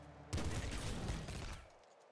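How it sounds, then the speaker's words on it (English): Elemental gun firing in the Nuclear Throne Ultra Mod video game, a dense burst of rapid, overlapping shots that erupts suddenly and rolls on for over a second before fading into a quieter tail. "Elemental gun."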